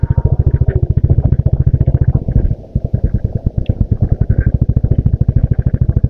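A Royal Enfield Classic 350 in chrome red thumps along on a ride with a loud, close, steady single-cylinder exhaust beat, briefly dipping as it shifts before resuming its rhythmic pulse.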